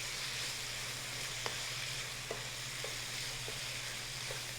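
Ginger sizzles steadily in a hot frying pan while a spoon stirs it, with a few sharp scraping clicks against the pan over a constant crackling hiss.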